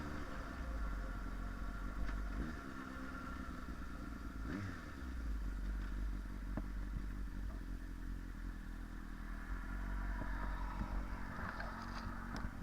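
A motorcycle rides on cold-weather roads with no ice or snow, its engine a steady close rumble with road clatter and occasional scraping, and almost no talk.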